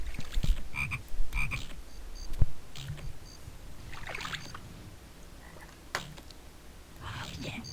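Toad croaks in the Zoombinis lilypad puzzle, several short croaks scattered through the clip amid clicks and faint game sounds, with no speech over them.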